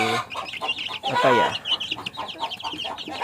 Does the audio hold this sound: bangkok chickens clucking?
yes